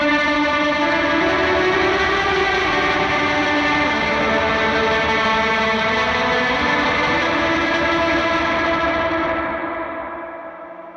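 An electric guitar runs through a heavily distorted, washy effects preset drowned in maxed-out reverb, sustaining a loud, dense swell that slowly fades into a long tail at the end.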